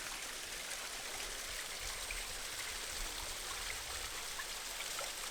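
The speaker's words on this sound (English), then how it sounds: "enjoy the pretty waterfall" A small waterfall pours into a stream, a continuous broad hiss of falling and trickling water heard at steady, fairly soft level with no voices.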